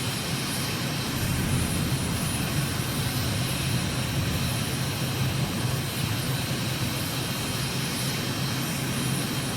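Simulated propeller aircraft engine droning steadily in a flight simulator game while climbing under added throttle over the Solomon Islands, a loud, constant, unbroken hum with no talking.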